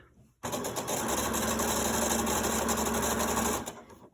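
Sewing machine stitching through lined-up fabric layers for a chicken-shaped grocery bag holder, a loud steady rapid whir for about three seconds, starting and stopping abruptly.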